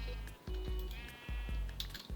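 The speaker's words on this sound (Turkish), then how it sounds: "şu buz şeyini denemedik daha koyunların üstünde" Sheep in a modded video game bleat repeatedly in short, nasal calls amid continuous game background sound, with a few light impacts.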